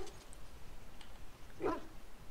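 A dog whimpers and gives a short yelp-like bark in the video game Dragon Age: Origins, one brief cry near the middle over a steady low game background.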